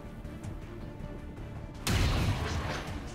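A single sharp gunshot from the video game XCOM 2 hits as one sudden loud blast and then rings out over a steady game background.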